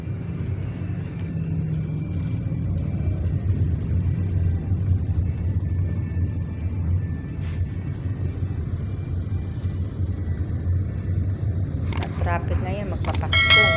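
Steady low rumble of busy road traffic in the Philippines in the days before Christmas, a continuous engine drone throughout with a brief higher-pitched burst near the end.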